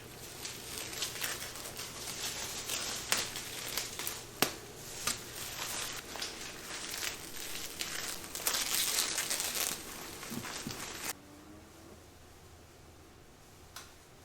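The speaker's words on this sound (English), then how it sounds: "let's take the tape off and all the masking" Masking tape and paper pulled off a freshly painted blue rally Corvair make repeated crinkling, crumpling and tearing sounds, close and irregular with small sharp bursts, then fall quiet near the end.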